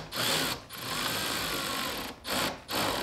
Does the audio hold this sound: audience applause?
no